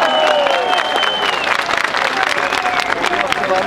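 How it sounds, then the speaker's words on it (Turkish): Crowd applause at a Turkish political gathering, dense clapping mixed with cheering and murmuring voices, loud and close, with whistles or shouted tones rising above the clatter. "Bir alkış yollayalım sağ olsun."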